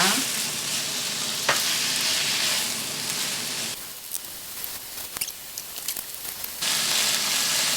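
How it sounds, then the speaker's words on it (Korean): Meat stir-fried with plenty of minced garlic in a hot pan, loud constant sizzling that drops to a quieter crackle with scraping and clicking stirs midway, then rises again to full sizzle. "그래서 일단 고기에서 기름이 좀 나오게 볶아줍니다"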